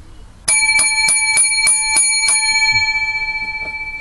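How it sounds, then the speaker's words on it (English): Seven bright bell rings strike in an even rhythm to open a progressive political discussion show, each ring loud and close, the last one ringing out and fading slowly. "Seven lucky bells for this week's progressive discussion show."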